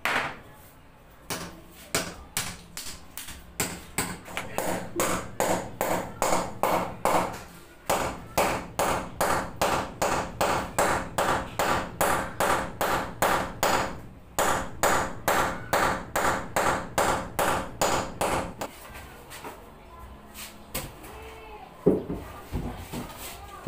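A Dynabolt expansion anchor bolt is hammered into a wall for mounting a hanging cabinet, with a long run of steady, evenly spaced sharp metallic strikes, briefly pausing and resuming, then a few scattered knocks at the end.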